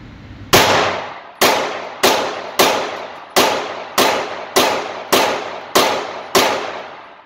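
A gun fires at a shooting range. Ten sharp, loud reports ring out alone at an even pace, roughly one every three-quarters of a second, each leaving a brief ringing decay.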